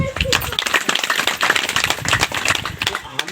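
A group claps along at a local gathering, sharp irregular hand claps mixed with voices and chatter, loud and close throughout.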